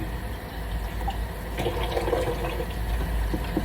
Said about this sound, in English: I can pick the wig up and let it run under the water